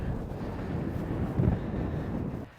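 Steady wind roars and buffets the microphone across a Scottish links golf course, a constant low rumble with a slight gust midway before it drops away.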